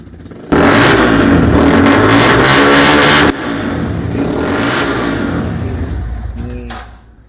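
A sport motorcycle engine fires up loudly and revs hard several times, a throaty roaring snarl that drops to a rough idle and then fades.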